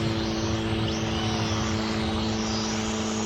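A cheap toy drone flies at full power, its small propellers giving a steady, loud, close buzzing whine with a constant tonal hum that holds unbroken throughout, no voices.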